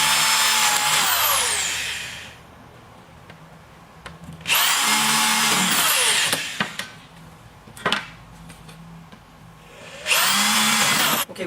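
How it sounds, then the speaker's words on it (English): Power drill boring holes into a metal angle for a rolling shutter installation, three loud whining bursts of a couple of seconds each separated by quiet pauses and small knocks. "I'm going to drill a hole about 1 inch away from the edge, 1 in the center, and then 1 at the other end"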